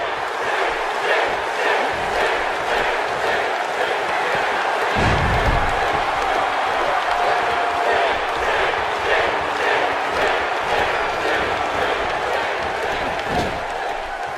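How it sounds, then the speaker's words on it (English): An arena crowd in the WWE 2K17 wrestling game roars and cheers continuously during a Ric Flair versus Sting match, with a commentator's voice running over the crowd noise and a thud around the middle. "by the sound of this crowd, I think they're getting what they wanted"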